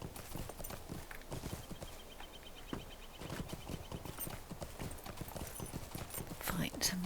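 Hooves clip-clop steadily at a quick, even rhythm as a horse is ridden in Lord of the Rings Online, with a player talking over the footfalls.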